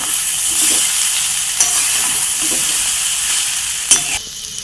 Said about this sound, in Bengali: আমি এবার এটাকে ভালো করে নাড়িয়ে নেড়ে নেব